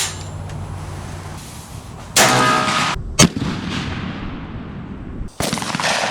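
An SKB 12 gauge shotgun with a 26-inch fixed improved cylinder barrel fires TSS number 7 shot outdoors. Several loud, sharp blasts ring out with fading echoes between them.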